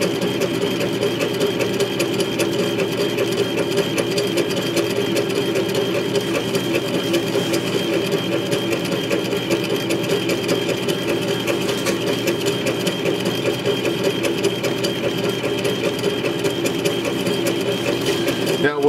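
A K40 laser engraver runs steadily while engraving an image, giving a continuous buzzing, rattling mechanical drone at close range with no pauses or talk throughout.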